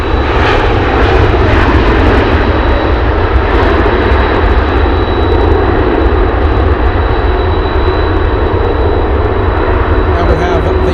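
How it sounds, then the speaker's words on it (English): A Lockheed U-2 spy plane landing at Anchorage, a loud, sustained jet engine roar close by with a thin high whine running through it, steady throughout, with a voice talking over it. "I've never been this close to a U2 landing"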